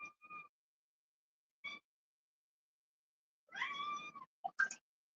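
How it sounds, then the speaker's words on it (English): A house cat gives a short two-part meow, a brief chirp, then a longer drawn-out meow followed by two quick squeaky calls, all close and clear against silence, with no talk. "Kitty cat."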